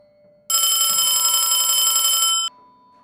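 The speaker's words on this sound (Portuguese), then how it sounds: "O telefone tocou uma vez." A telephone rings once, a single bright, buzzing electronic ring lasting about two seconds against near silence.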